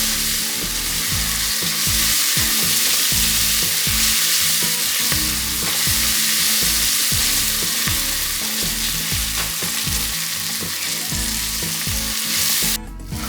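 Vegetables sweat in a hot pan for Hungarian mushroom soup, a loud, steady sizzle that keeps going throughout, with faint stirring knocks underneath.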